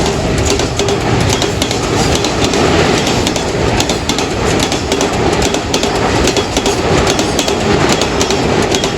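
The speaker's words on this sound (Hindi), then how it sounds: "9049 लीडिंग 33 बिजनेस एक्सप्रेस" A Business Express passenger train led by locomotive 9049 passing close by at night near Multan, a loud steady roar of rolling wheels with rhythmic clickety-clack over rail joints throughout.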